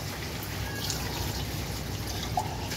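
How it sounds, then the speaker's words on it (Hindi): Water pouring into a cooking pot for Afghani pulao after tamarind pulp has gone in, a steady soft trickle and splash running evenly throughout with no talk. "ये मैं पानी डालने लगी हूँ।"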